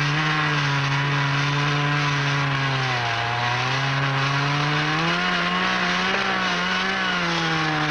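A chainsaw runs continuously while felling a tree, its engine holding a loud steady buzz that sags and recovers in pitch as the main cut goes in, with no talk.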